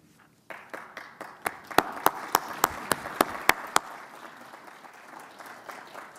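Applause for two government ministers at a Vancouver trade-agreement event: a burst of sharp, spaced claps rises into a steady round of clapping from a gathered crowd, then fades into a softer murmur of room noise.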